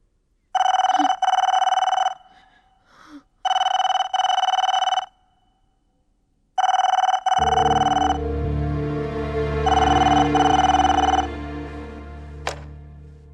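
A telephone bell rings in repeated long bursts separated by short gaps, loud and close, with a steady droning tone joining in partway through and a brief sharp click near the end.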